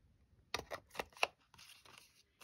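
Scissors snip through cardstock while a floral lace card is trimmed, a few close, crisp cuts in quick succession followed by a softer rustle of paper.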